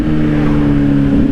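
A 2025 Honda CBR600RR sport bike's engine gives a loud, close, steady tone during a quick-shifter rev-matching blip on a second-to-first downshift, a brief sustained engine note with no talk.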